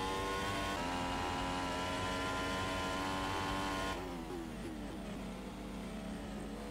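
A Formula 1 car in a racing video game drives a San Marino qualifying lap, its engine whining loud and steady with dense harmonics, then dropping in pitch around a downshift before holding a lower drone.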